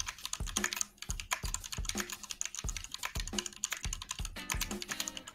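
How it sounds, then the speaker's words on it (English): Rapid, loud clacking on a computer keyboard runs continuously for several seconds, the keystrokes close to the mic in uneven bursts with brief pauses between runs, during a Minecraft SciCraft livestream. "typing really loud though"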